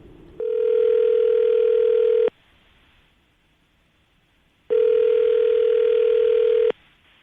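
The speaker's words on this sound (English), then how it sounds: "See if we can get him on the phone" Two long steady electronic ringback tones, each about two seconds, separated by a pause of quiet line hiss.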